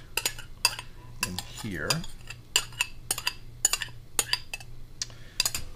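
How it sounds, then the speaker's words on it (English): Eggs go into a big bowl for a vintage mushroom noodle ring, heard as a string of sharp clinks and taps against the bowl with light handling noise between them. A few words are spoken quietly. "let me take this big bowl and put our eggs"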